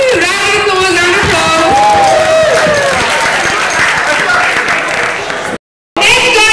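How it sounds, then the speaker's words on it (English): A crowd at a live radio event breaks into loud applause mixed with whooping, cheering voices, cut off by a brief silence near the end. "Round of applause"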